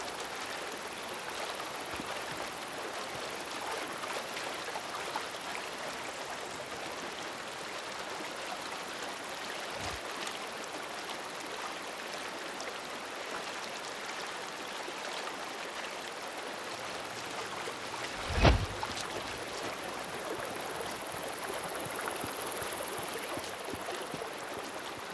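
Creek water in Days Gone flows with a soft, continuous trickling rush. It stays at an even level, with one brief thump partway through and no speech.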